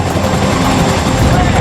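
A Chinook helicopter's heavy, continuous rotor and engine roar fills the scene, loud and close, with a narrator's voice speaking over it throughout.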